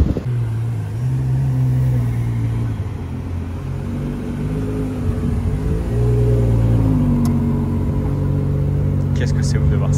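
Supercar driving past on a Paris street, its engine rumbling loud and near with rising and falling revs as it passes, while people talk over it.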